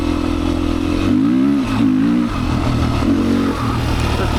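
A Beta 500 dirt bike engine revs up and down close by, a loud throaty motorcycle sound with rising and falling pitch across several blips.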